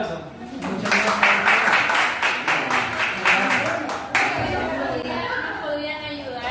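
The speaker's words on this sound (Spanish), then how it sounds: "Así que damos un aplauso" Workshop participants applaud at the close of a session, a burst of clapping that stops abruptly partway through and gives way to chatter and talk in the room.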